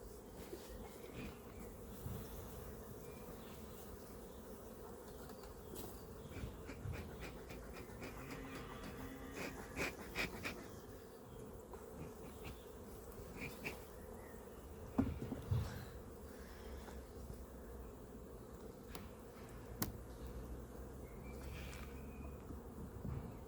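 A steady hum of buzzing honeybees at an opened hive fills the scene, continuous and fairly close, with occasional soft knocks and rustles.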